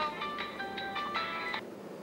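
Telephone ringing in a comedy drama scene: a repeating electronic ringtone with several short bursts of tones over about two seconds, clear and fairly near, with no talk.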